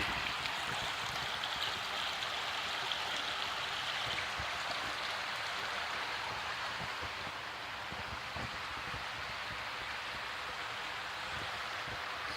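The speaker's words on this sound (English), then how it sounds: "this is a creek." A creek flowing on a summer day after heavy snowmelt, with a steady broadband rush and babble of water running continuously and fairly close, with no voices.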